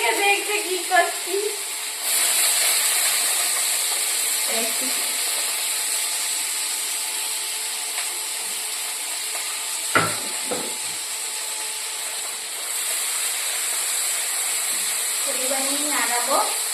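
Food frying and being stirred in a pan during home cooking, a steady broadband sizzle with scraping strokes from stirring, close and continuous, while people talk over it now and then.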